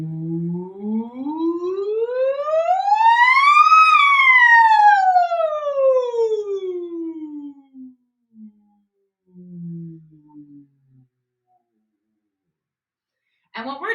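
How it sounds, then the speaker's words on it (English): A singer's vocal siren warm-up: one voice glides smoothly from a low note up to a high peak and back down in a single long sweep, loud and unaccompanied, followed by a couple of brief, soft hummed notes. "what we're doing here with that siren is we are working out all of the kinks"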